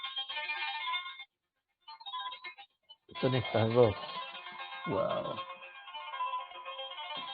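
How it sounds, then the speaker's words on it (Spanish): A phone ringtone plays a repeating electronic melody for an incoming call in a lecture setting, cutting out briefly and then sounding steadily throughout, with a speaker's voice breaking in over it. "Me están llamando por teléfono."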